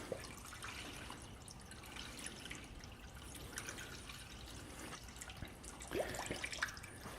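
Antifreeze coolant poured into the radiator of a Jeep WJ Grand Cherokee, a faint continuous trickle and gurgle of liquid with a few small drips and splashes, quiet and steady throughout.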